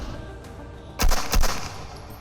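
Two sharp gunshots from a VR shooter, I Can Gun, striking a hovering bot, close and loud in quick succession with a brief rumbling tail after each.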